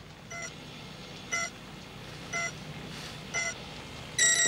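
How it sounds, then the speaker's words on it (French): An electronic ringing alarm sounds at 7 in the morning, five short bright beeps repeating at about one-second intervals, the last one louder, with no talking. "qu'est-ce que c'est que cette sonnerie?"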